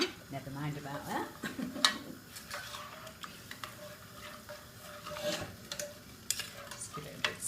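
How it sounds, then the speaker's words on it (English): Meat pie filling with vegetable stock stirred in a pan: soft, uneven scraping and light utensil ticks over a gentle bubble, with a brief voice-like murmur at the start. "Just give it a good stir up."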